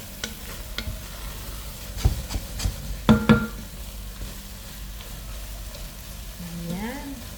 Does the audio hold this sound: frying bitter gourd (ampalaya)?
yes